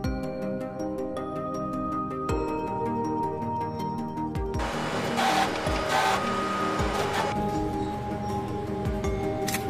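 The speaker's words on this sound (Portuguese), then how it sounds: "Ela tem uma impressora ali de tamanho bacana, né?" A large 3D printer, with a 330 by 230 millimetre bed, prints a car part: its stepper motors whine in shifting tones, with periodic clicks and buzzing moves, loud and close throughout.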